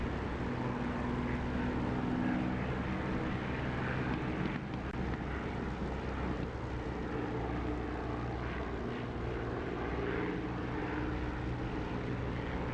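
A propeller aircraft engine in a DCS or War Thunder flight sim, a dense steady drone filling the whole stretch, with a slight shift in tone about midway as the throttle is eased up.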